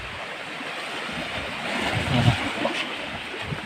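Sea waves wash steadily at the seashore, a broad, moderately loud surf rumble that builds slightly in the middle, with a brief voice at the start.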